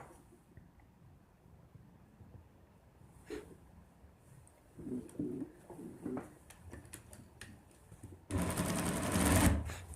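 A sewing machine stitches a high neck collar. Quiet handling and a few soft clicks come first, then a loud, rapid run of mechanical stitching near the end.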